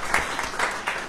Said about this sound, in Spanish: Fuerte los aplausos.